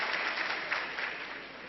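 Seminar audience applauding, a dense, continuous burst of many hands clapping at fairly close range, steady and loud throughout without a break.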